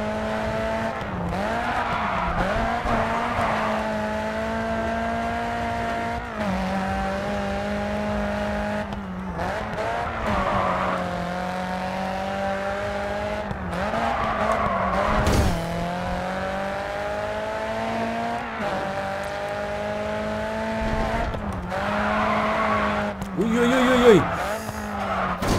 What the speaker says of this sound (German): Er lässt sich richtig geil um die Kurven fahren.